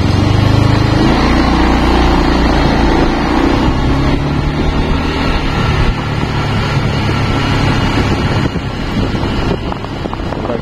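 A motorcycle rides along a toll road construction site between Palembang, Betung and Jambi, its engine a steady close drone mixed with strong wind rumble across the microphone throughout.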